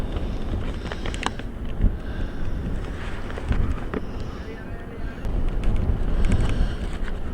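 Steady roaring wind of 30 mph with 30-40 mph gusts buffets the microphone with rumbling gusts that swell and ease, loud and continuous throughout, at a baseball game.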